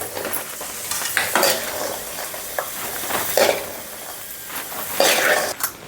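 A crispy snack frying in oil over a low flame while being stirred, with a steady sizzle broken by repeated scraping and clinking strokes of a utensil against the pan, close and clear with no voices.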